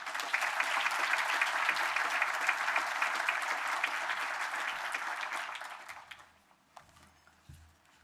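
Audience applause welcoming the chairman of the House Financial Services Committee at a keynote address, a steady roomful of clapping that swells, holds for several seconds, then fades out.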